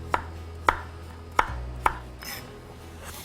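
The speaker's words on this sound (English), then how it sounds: "these wedges can also be cut into chunks for roasting or for soups or for mashes" A knife chops through butternut squash wedges, cutting them into chunks: four sharp, evenly spaced strikes against a cutting board, close and crisp, with no talking.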